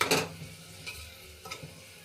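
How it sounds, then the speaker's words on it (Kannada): Tomatoes frying in a pan with salt, stirred now and then: a soft steady sizzle broken by three brief scraping stirs, close up with no voices. "ಈಗ ಟೊಮ್ಯಾಟೊ ಸ್ವಲ್ಪ ಸಾಫ್ಟ್ ಆಗೋವರೆಗೂ ಫ್ರೈ ಮಾಡ್ಕೋಬೇಕು"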